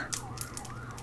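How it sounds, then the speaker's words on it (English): A police car siren outside, its wavering wail sliding up and down steadily through the whole short stretch, muffled and fairly faint as if heard from indoors, with a few soft clicks and taps over it. "Could be a copper or an ambulance, but based on how the siren sounded, it actually did sound like a copper."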